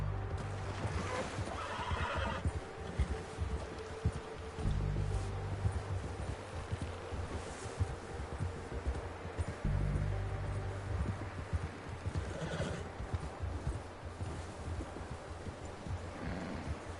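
Horse neighing and whinnying with clip-clopping hooves in the game Red Dead Redemption 2, a few loud whinnies standing out over steady hoof beats and ambient outdoor sound, no talk.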